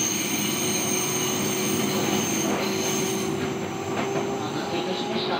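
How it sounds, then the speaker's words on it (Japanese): A Japanese local commuter train bound for Kotesashi running between stations near Nishi-Tokorozawa, a loud continuous rumble with wheel and rail noise and a faint high squeal throughout. "This is the local train bound for 小手差し。"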